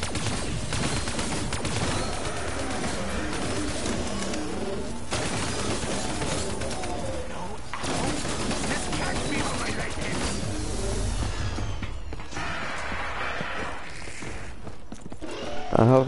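Gunfire aimed at a Panzer enemy in Call of Duty Black Ops 3 Zombies, with loud repeated bursts and rattling shots packed over game noise, easing off and turning sparser toward the end.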